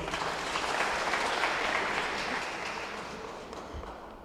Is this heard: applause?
yes